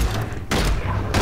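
Evasive Fire skill used in the Diablo III beta: three loud, broad whooshing bursts fire in quick succession with a dull low thump beneath them.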